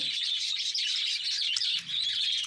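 Australian budgerigar parrots chirping at a clay nest pot, a dense, continuous stream of high twittering close by with no talk.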